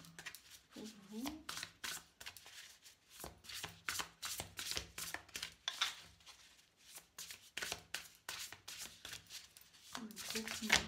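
Oracle deck being shuffled by hand at a tarot reading, a quiet run of crisp papery riffles and slides that keeps going in short bursts, with a voice speaking intermittently over it.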